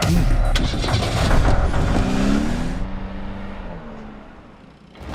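A car starts up and pulls away in a Hindi-dubbed film scene: engine noise swells at first, then fades steadily as the vehicle drives off, with no talk over it.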